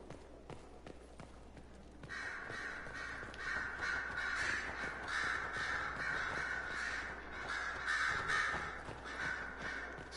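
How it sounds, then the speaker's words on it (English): Ravens and crows cawing in Dragon Age Inquisition, a flock of repeated harsh caws starting abruptly and continuing close and loud, rising and falling over several seconds. "Stinking ravens and crows."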